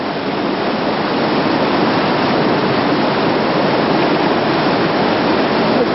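Class 4 whitewater on the Arkansas River at the Zoom Flume rapid in Browns Canyon roars in a continuous, dense rushing wash, loud and close, with no voices over it.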